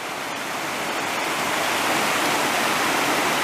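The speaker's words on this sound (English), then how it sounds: "Here's the waterfall." A waterfall on Mill Prong Creek in Shenandoah National Park pours steadily, a close, loud, even rush of falling water with no voices.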